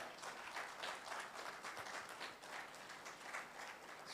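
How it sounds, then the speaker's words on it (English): Steady applause from an audience at a seaweed expo and summit's student poster competition award, a continuous, even patter of many hands, faint and somewhat distant, with no talk over it. "She deserves louder round of applause than this"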